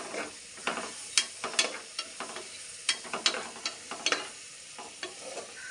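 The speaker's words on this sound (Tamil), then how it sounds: "பச்சை மிளகாய் போட்டுட்டு வதக்கலாம் நல்லா" Green chilies sautéing in a pan for a mushroom dish, with quiet irregular sizzles and scraping stirs of a spoon against the pan.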